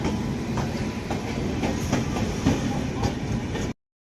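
Azimabad Express, hauled by a Tata WAP-7 electric locomotive, rolls along near Patna with a continuous loud rumble. Rhythmic wheel clicks clack over the rail joints, and the sound cuts off abruptly near the end.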